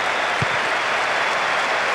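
Stadium crowd in the PES 2008 football video game roars with a steady, dense wash of cheering and applause, loud and unbroken throughout with no commentary over it.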